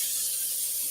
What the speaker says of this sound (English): I'm going to spread a little bit more nonstick up in here